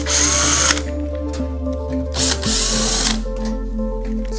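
A power driver spins out Phillips screws from the outer housing of an EdenPURE GEN 3 heater, producing two loud, close whirring runs with a steady motor hum between them.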